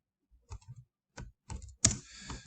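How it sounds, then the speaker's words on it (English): Keystrokes on a computer keyboard come in short, uneven bursts of close, quiet clicks, ending in a sharper tap, with no talking. "Let's type this in."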